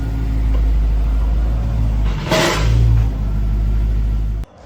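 A Dodge Demon 170 drives onto a dyno, its engine a loud, steady low rumble close by. It rises in a brief rev midway and cuts off sharply at the end.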